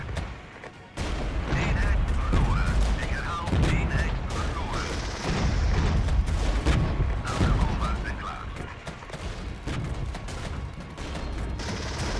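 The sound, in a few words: napalm strike burning, from video game Regiments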